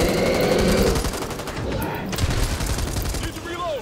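Dense, rapid gunfire in the zombie shooter Back 4 Blood rattles on continuously and loudly, with players' voices talking over the shots.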